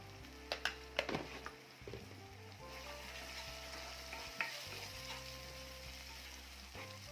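Kolhapuri onion-garlic masala with a pinch of garam masala frying in oil while being stirred, steady close sizzling broken by several sharp clinks of a spoon against the pan, with a low background hum and no speech.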